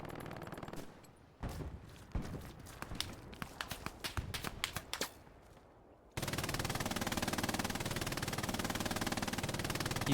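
Machine gun fire in the WWII shooter game Hell Let Loose: a string of sharp, close bursts of automatic fire, followed by a dense, continuous roar of battle that runs loud to the end.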